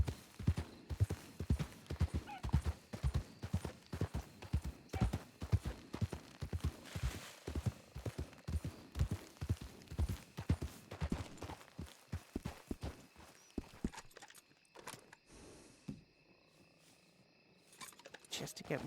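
Steady rhythmic hoofbeats from Honey, an imported foxtrotter horse in a video game, clopping along at an even gait for most of the stretch before fading near the end, with faint background ambience.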